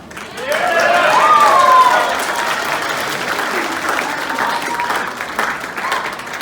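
A crowd applauds at Andrew Yang's 2019 campaign rally in Seattle: dense, steady clapping that swells in the first two seconds and then holds a little lower, with some voices mixed into the applause.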